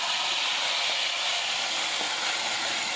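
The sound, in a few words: tadka of red chilli in hot oil sizzling on nihari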